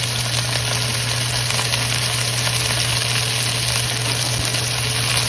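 Beef short ribs sear in a hot pan before braising, giving a steady, close sizzle and hiss that runs unbroken at an even level with a low hum underneath.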